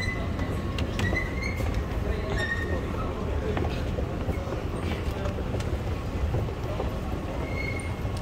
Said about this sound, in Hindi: यहाँ ट्रेन आती है हर 3-4 मिनट बाद।